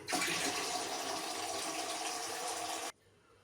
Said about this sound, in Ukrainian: І доливаю звичайною водою.